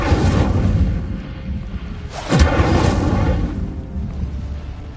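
A fire spell cast in the Hogwarts Legacy video game: a loud, rumbling magical burst swells and roars throughout, with a sharper flare in the middle, all at close range with no talking.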